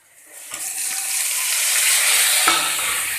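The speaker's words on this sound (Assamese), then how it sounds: "কাটি থোৱা বিলাহীখিনি দিম এতিয়া" Chopped tomatoes hit a hot pan while making palak paneer, setting off a rising sizzle that swells into a steady loud hiss, with a soft clatter near the start and another around the middle.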